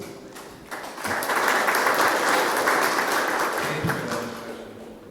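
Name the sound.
conference audience applause welcoming speaker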